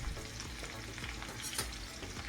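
Potatoes and onions fry in a pan, a continuous soft sizzle with stirring scrapes as they are moved around, fairly quiet and close with no talking.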